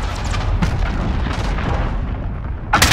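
Cruise missile blasts in Call of Duty: Modern Warfare, heavy rumbling booms filling the whole stretch with a sharp, loud burst near the end, game battle noise throughout.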